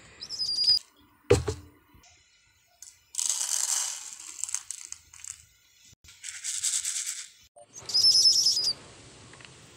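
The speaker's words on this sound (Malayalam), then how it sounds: "ഇതാണ് നമ്മുടെ പ്രാവുകൾ. ചാരപ്രാവുകൾ ആദ്യം കാണിച്ചു തരാം." Pigeons in a home loft flap their wings in several loud, close bursts, separated by short chirps and a sharp mechanical click.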